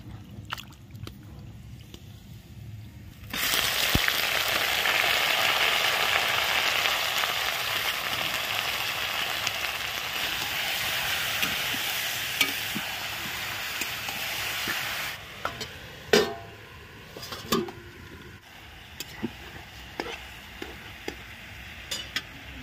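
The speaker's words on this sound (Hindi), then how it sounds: "चलिए अब मटन डालते हैं।" Mutton sizzles loudly as it hits hot oil with garlic and chili, a dense steady frying hiss that holds for about twelve seconds, then settles into quieter crackling with occasional stirring clinks and scrapes.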